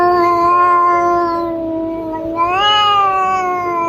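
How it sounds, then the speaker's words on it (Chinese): An angry cat lets out a long, loud howling meow, a drawn-out yowl that dips midway and then rises again, heard close and alone. "六、嗷呜声"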